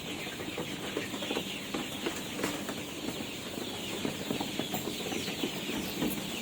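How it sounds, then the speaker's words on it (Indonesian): One-month-old Joper chickens cluck and peep continuously in a coop, with scattered rustling and occasional wing flaps. "ini adalah kandang ayam Joper usia 1 bulan"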